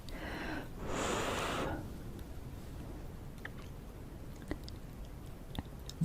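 A big mouthful of spicy noodles chewed close to the mic, beginning with a brief loud slurp-like burst and followed by faint soft squishy chewing with a few small clicks.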